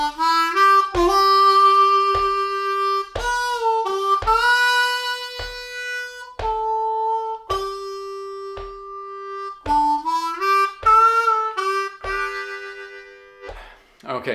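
A bluesy Amazing Grace lick played on a C harmonica, bent and sustained reed notes in a slow phrase with short gaps between notes, clear and solo.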